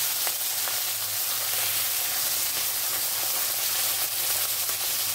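A broken-up fish head fries in oil for a potato and fish-head curry, giving a dense, continuous sizzle and crackle that stays loud and close throughout, with no talk.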